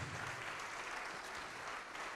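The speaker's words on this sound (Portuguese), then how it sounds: "Vamos aplaudir mais ao nome de Jesus." A church congregation applauds the name of Jesus, a continuous wash of many hands clapping, even and sustained, somewhat distant and soft, with no voices standing out.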